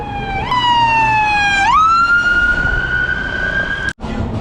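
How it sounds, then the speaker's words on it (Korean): A loud wailing ambulance siren sweeps up and holds steady close by on a Prague street, with traffic rumble underneath and a brief dropout near the end. "지금 저 뒤에 구급차가 오니까 아주 그냥 빠르게 나가고 있어요"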